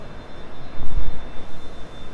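A low, rumbling SEAT Leon 1.6 TDI diesel engine with an aero conversion, a steady hum and a brief swell in the middle, close by and fairly loud.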